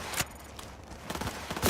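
Scattered gunfire in the video game Cyberpunk 2077, a few sharp bursts at the start and end with quicker shots in between, moderately loud over a busy background.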